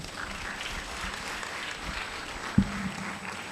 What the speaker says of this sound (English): I think we need one more big round of applause to such an amazing session that we had